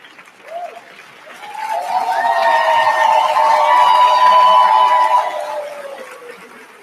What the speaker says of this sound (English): Why not another round of applause?